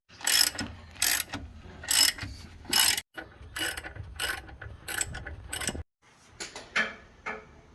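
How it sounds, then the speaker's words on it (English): Breaker bar and 18mm socket working thread-locked caliper bracket bolts on a 2003 Chevy Trailblazer's rear brakes, heard as close, loud bursts of ratcheting clicks in repeated pulls with short pauses between. "Now we have to remove the caliper bracket using a breaker bar and an 18mm socket."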